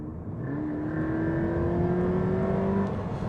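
An automatic Subaru BRZ in sport mode accelerating hard, its engine note climbing steadily in pitch as it pulls through the revs, loud and continuous with a rising whine over the drone.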